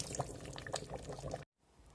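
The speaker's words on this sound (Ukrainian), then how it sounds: "Перед вимкненням додаємо чарочку оцту і розливаємо у баночки." Sweet peppers in tomato sauce with a splash of vinegar being poured into glass jars, a close, steady liquid pour with light splashes that stops abruptly, followed by near silence.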